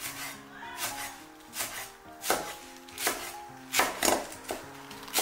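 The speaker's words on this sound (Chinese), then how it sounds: "蒜苗稍微给它拍一下，然后切成斜刀段" A knife chops lightly smashed garlic sprouts into diagonal segments on a cutting board, giving about eight sharp, separate knocks at an uneven pace, close and fairly clear, with no talking.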